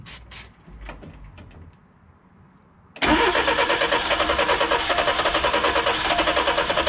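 A small engine on a difficult-starting machine, just after its carburetor was cleaned with brake cleaner, is cranked: quiet fiddling noises, then at about three seconds it abruptly catches and runs loudly with a steady, rapid mechanical rhythm until the end.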